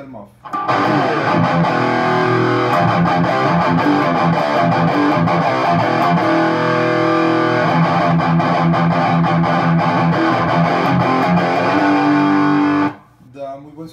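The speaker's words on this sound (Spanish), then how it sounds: "Y en la distorsión estoy usando aquí el Ibanez y el Metal Muff" Electric guitar played through a Moen GEC9 effects switcher with Ibanez and Metal Muff distortion pedals, a loud, dense sustained distorted riff ringing continuously before cutting off near the end.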